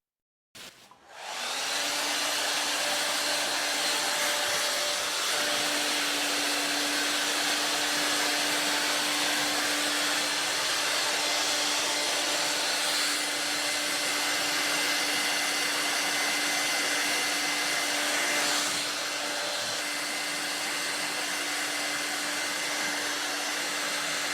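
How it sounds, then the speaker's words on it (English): A hair dryer roars steadily and loudly for the whole stretch, drying chalk paint, a continuous blowing whir with a constant motor hum beneath it. "Emma, can you dry it with the hairdryer to speed things up?"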